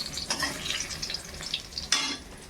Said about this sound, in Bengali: এই যে এই পটলগুলো ভাজা করব, সব পেকে গেছে